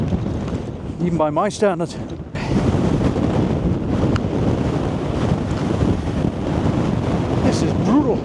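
Strong wind buffets the microphone on a rough-ground shore during a cod fishing club match, a constant loud roar with surf mixed in, and someone talks briefly near the start.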